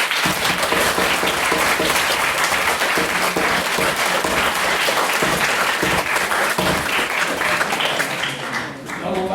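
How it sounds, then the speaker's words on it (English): Debate audience giving a sustained round of applause, a dense wash of many hands clapping loudly and steadily for nine seconds before thinning out at the very end. "So a round of applause."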